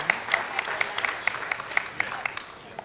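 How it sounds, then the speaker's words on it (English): An audience applauds at an awards event, a steady wash of clapping with a few sharper claps poking out, fairly distant and even throughout. "One more round of applause, please."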